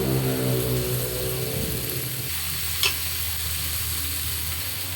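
Taro pieces go into a simmering pot of salmon sinigang sa miso, giving a close soft bubbling, sizzling hiss with low stirring rumbles and one brief knock partway through.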